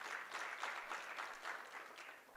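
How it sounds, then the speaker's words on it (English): Round of applause from an audience at a South African sports award ceremony honouring Comrades Marathon winners, a steady dense clatter of many hands, moderately faint and continuous with slight swells. "A big round of applause."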